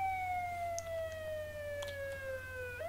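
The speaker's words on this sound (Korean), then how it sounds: "사기야마가 정차되어 있는 사이렌을 울리고 있는 승용차 쪽을 보았다." A wailing car siren sounds in a Japanese street-mystery adventure game, a steady, gradually falling tone with harmonics held at moderate distance for the whole short stretch, over a low background hum.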